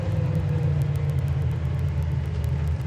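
A 1972 Chevrolet Nova Super Sport downshifts into first gear while driving, with a steady low engine rumble and no pause throughout.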